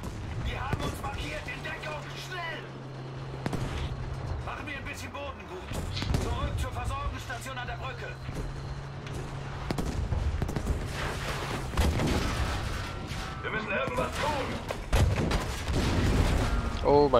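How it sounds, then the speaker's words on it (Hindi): Battlefield V war campaign gunfire: repeated sharp shots and booming bursts, some rapid and some spaced, close and loud over a constant battlefield rumble, with someone talking across it. "ये जो फायर है ये कहां से आ रहा है"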